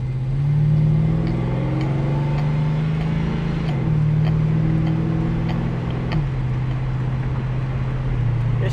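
A car engine idles and stutters at low RPM after a fuel pump install, a steady low drone with uneven pulsing and a couple of pitch drops like gear shifts, close and loud throughout.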